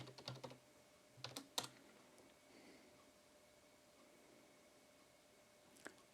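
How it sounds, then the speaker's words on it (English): Quiet keystrokes on a computer keyboard while a password is entered on an Atari VCS, short bursts of clicks early on, then near silence and one final tap. "So let's enter the password."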